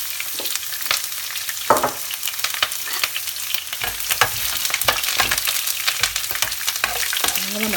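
Chopped onions frying in hot oil for a Congolese sauce, a continuous crackling sizzle with scattered sharp pops and occasional stirring scrapes, loud and close with no talking.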